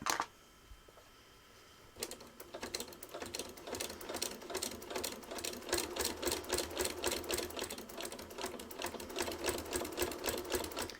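A sewing machine stitches over the binding of a small quilted valentine project. A soft thump comes first, then a steady, fast, rhythmic mechanical chatter runs close and continuous to the end.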